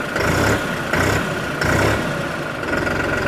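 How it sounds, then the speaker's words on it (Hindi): A 3630 Special Edition tractor engine idles steadily up close with a deep, loud, continuous rumble and slight periodic pulsing, with no talking. "सबसे पहले 3630 की आवाज़ में आपको सुनवाता हूँ।"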